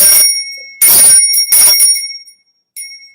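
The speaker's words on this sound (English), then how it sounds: "I'm going to ring this little Ganesha bell." A small bright Ganesha bell rings three times, each strike clear and high-pitched, with shimmering overtones that fade before the next.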